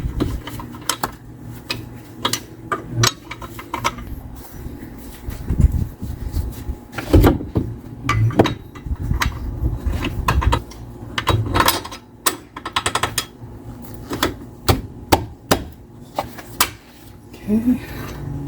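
Bolts are fitted on a strut of a Sprinter-based Winnebago View Navion van, with irregular metallic clicks, clinks and tool taps scattered through the clip, fairly close by.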